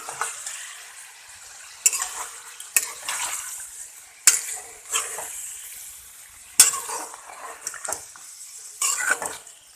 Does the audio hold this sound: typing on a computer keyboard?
no